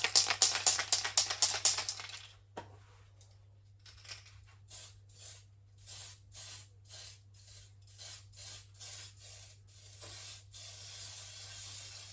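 Short aerosol bursts of white spray paint hit a replica RC car body of a Mk2 Escort RS2000: one long hiss, then a steady series of brief, evenly spaced puffs for light coats, close and clear with no talking.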